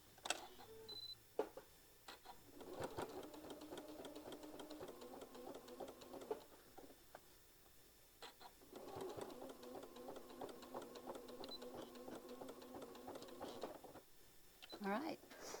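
Sewing machine topstitching around a tote bag, running in two long steady whirring stretches with a pause and short stops between, fairly quiet and close.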